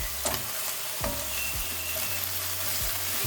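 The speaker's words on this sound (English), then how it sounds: "I just keep frying our onion" Onion frying in a pan for lupin biryani: a steady, fairly quiet sizzle with a few soft clicks and scrapes of stirring, and no voices.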